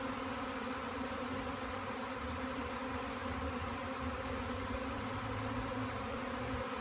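A swarm of honeybees out of their hive for several days buzzes steadily outdoors, a dense, continuous hum with no voices over it.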